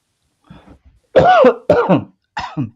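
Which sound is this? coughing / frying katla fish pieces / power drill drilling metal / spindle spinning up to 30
coughing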